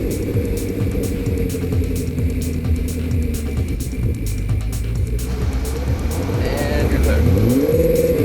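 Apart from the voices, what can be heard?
Lotus Esprit car engine revving while pulling away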